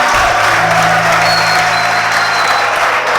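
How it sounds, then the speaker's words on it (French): Steady applause from a large crowd at a political association's founding general assembly, sustained and dense throughout, with faint voices mixed in the background. "Applaudissez encore une fois de plus pour le général."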